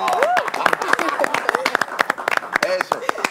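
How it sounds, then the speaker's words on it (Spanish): Audience applause and clapping with cheering voices for a pilgrim, loud and close, in a lively crowd; someone talks over the clapping. "un aplauso para él"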